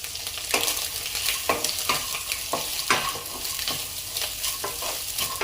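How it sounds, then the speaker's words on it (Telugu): Carrots stir-fry in oil on high flame for egg fried rice, with a continuous sizzle broken by regular scraping strokes of a spatula, close and fairly loud. "మంచిగా మిక్స్ చేసుకోవాలి హై ఫ్లేమ్లోనే"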